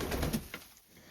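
A hen bought at an auction makes soft, low clucking and cooing sounds close by, a few short murmurs in brief succession with no talking.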